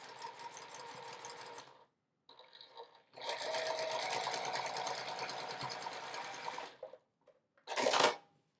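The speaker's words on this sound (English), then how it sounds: "I'm going to sew a 1/4 inch seam across here." Close up, a sewing machine stitches a quarter-inch quilt seam in short stop-start runs, with a brief gap and then a longer steady burst, ending with a sharp click or snip.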